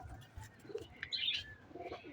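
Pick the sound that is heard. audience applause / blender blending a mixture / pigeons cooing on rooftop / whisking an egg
pigeons cooing on rooftop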